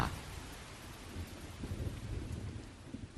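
Heavy rain with thunder: a dense, steady hiss of rainfall with low, rolling thunder rumbling beneath, building slightly toward the end, moderately distant and without voices.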